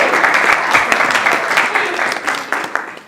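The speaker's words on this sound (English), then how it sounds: "Everybody clap for Camille." An audience at a kickoff event gives a board member a burst of applause, dense close clapping that gradually thins and fades, with some voices mixed in.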